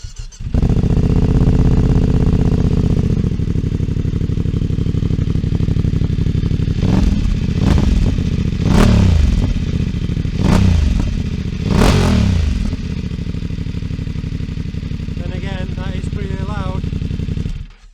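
Voge DS900X motorcycle with a carbon fibre exhaust and its baffle removed, idling loudly, then blipped through several sharp revs in quick succession before settling back to a rumbling idle.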